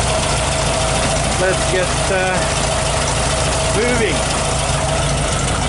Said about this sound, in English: when you're driving a 50 years old air-cooled Volkswagen Beetle